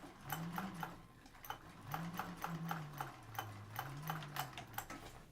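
A sewing machine top-stitches a seam through vinyl, its needle ticking in a quick, even rhythm of close, moderately loud clicks over a low motor hum.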